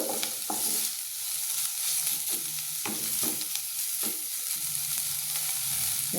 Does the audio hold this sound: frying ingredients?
yes